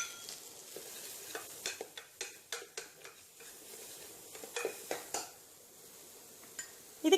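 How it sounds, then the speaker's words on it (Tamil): Onions and garlic sauté in a pan for vegetable soup, a soft steady sizzle under repeated clinks and scrapes of a spoon stirring against the pan. "பூண்டு நல்ல ரோஸ்ட் ஆனாக்கில் முதல்ல நம்ம வெங்காயத்தை சேர்த்துக்கணும்."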